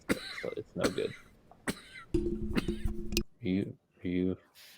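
A nasty cough erupts in several harsh, close bursts, mixed with throat sounds and brief spoken voices around it.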